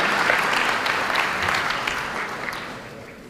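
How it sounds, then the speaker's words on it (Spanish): A large crowd at a panel event applauds loudly and steadily, the clapping dense and sustained before easing slightly toward the end. "Fuerte los aplausos"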